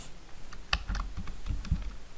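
Keys on a computer keyboard are tapped in a short, uneven burst of soft clicks, close and quiet, with no talking.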